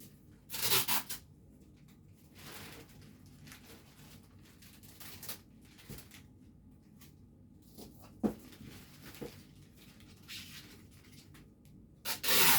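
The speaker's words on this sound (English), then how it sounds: "Now the part that I need to close off, I'm going to tape here." Clear tape is pulled off the roll and pressed onto cellophane wrap around a large Valentine's Day gift basket, soft tearing and rubbing sounds with a few crinkly peaks, quiet and close.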